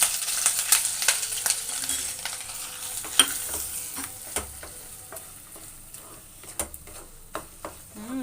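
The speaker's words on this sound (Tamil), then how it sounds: "மீடியம் ஃப்ளேமில் வச்சு இந்தமாரி பொரிச்சிக்குங்க ப்ரெட்டை" Bread sizzles softly in hot oil in a pan over a medium flame, with occasional scraping and clinking of a utensil stirring and turning it.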